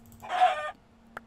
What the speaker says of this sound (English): There's another chicken down there.